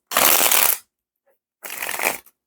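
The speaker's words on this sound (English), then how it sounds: "I'm trying to give these one more shuffle before I start to shuffle my clarifying cards" A deck of oracle cards is shuffled in two quick riffling bursts, close and crisp, separated by a brief pause with no talking.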